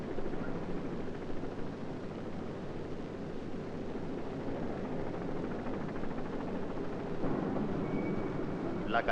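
Helicopters arrive at a funeral in Quebec, a continuous low rotor drone mixed with a wind-like rush that holds steady the whole time.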